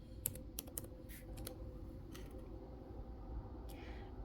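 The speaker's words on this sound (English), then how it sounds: "Just going to go ahead and type purse in there." Keys tapped on a computer keyboard to enter a short search word, a handful of separate light clicks with gaps between them over a steady low background hum.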